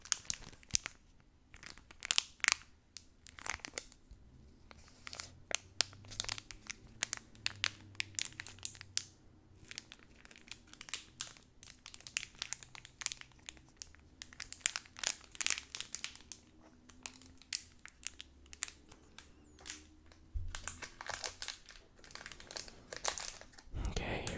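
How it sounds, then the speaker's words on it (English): Magic: The Gathering Shadows Over Innistrad booster pack wrappers crinkling up close, dense bursts of crackly plastic rustling throughout, without speech. "Let me get some of the crinkles in here first."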